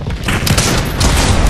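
Rapid bursts of gunfire in the Fortnite video game, loud and dense throughout a short stretch with no talking.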